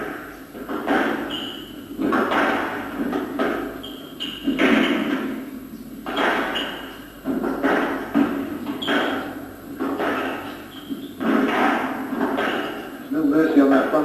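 A squash ball is struck hard against the front wall during a 1993 professional match between Jahangir Khan and Adam Schreiber, with repeated sharp thuds at a steady rally rhythm beneath continuous commentary.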